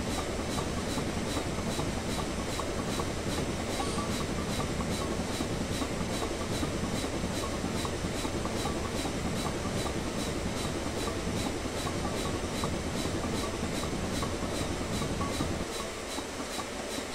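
A Union Pacific Big Boy steam locomotive in Train Simulator 2015 on Sherman Hill, heard as a dense, continuous loud rumble with rapid rhythmic chuffing and clatter throughout.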